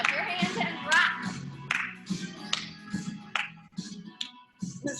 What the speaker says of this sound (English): Clap your hands and rock.